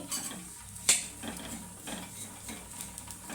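Semiya vermicelli roasting in a pan is stirred with a utensil, giving soft continuous scraping and rustling with one sharper clink, close and moderately faint, with no talk.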